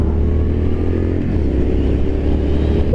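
A 2023 Triumph Scrambler 900 motorcycle engine revs loudly and close, a steady throaty drone that holds with slight rises, no talking.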